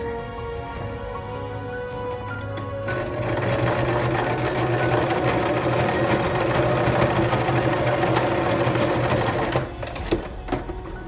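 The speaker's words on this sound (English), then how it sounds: "I'm just gonna run a seam" Close up, a sewing machine stitches a seam on a fabric surgical scrub cap, starting slowly and then running at a fast, steady mechanical whir before easing off, with no talking.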